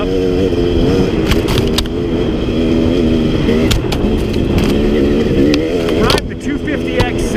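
A KTM 250XC dirt bike engine drones loudly and steadily throughout, with its pitch wavering as the throttle changes. Speech is mixed in under the engine.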